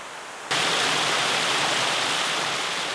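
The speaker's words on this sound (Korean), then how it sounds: "층층으로 이루어진 천사장 폭포를 지나니" Water pours over the layered Cheonsajang waterfall in Zion Canyon, a dense, steady roaring wash that starts suddenly and stays loud and close.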